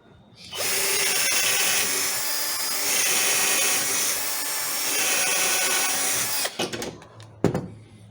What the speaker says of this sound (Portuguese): Aqui para parafusar, pessoal, eu vou utilizar uma broca que seja um pouquinho mais fina que o parafuso